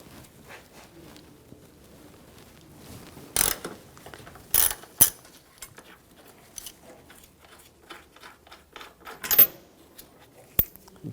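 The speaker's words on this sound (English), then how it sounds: "Using a E14 socket, take this bolt out." A hand ratchet fitted with an E14 socket works a starter bolt loose on a BMW 328i, sounding as scattered bursts of sharp clicking. The clicks fall between quieter pauses and are heard up close, with no talking.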